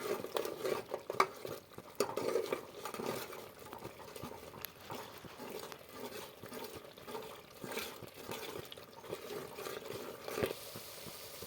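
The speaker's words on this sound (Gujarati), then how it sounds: "થોડીક વાર આનું હલાવવું પડશે." Chillies being stirred while they cook in an oiled pan, a steady run of soft scraping and clattering strokes with a faint sizzle underneath, close and moderately quiet throughout.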